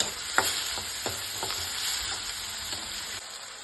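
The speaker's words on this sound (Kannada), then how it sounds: "ಒಂದು 5 ನಿಮಿಷ ಚೆನ್ನಾಗಿ ಫ್ರೈ ಮಾಡ್ಕೊಳ್ಳಿ" Peas and tomato frying in oil in a pan, a steady close hiss of sizzling with several soft scrapes of a spoon stirring, no voices.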